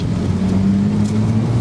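A manual Porsche engine drones steadily while driving: a low, even hum with faint wind noise, close and continuous, with no talking.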